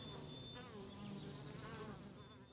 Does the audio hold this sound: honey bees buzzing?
yes